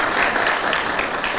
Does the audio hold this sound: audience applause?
yes